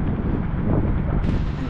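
Strong wind buffets the microphone during a parasail ride over Boracay, a loud, continuous rumbling roar with gusty surges and no break.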